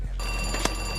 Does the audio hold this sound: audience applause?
no